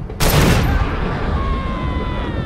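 Shot liquid propane tanks in Far Cry 2 go off in one sudden loud blast that rolls into a long, fading rumble with a thin ringing tail.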